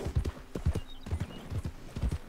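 A horse's hooves clip-clop in a steady, quick gallop rhythm during riding in Red Dead Redemption 2, close and clear, with no talking over them.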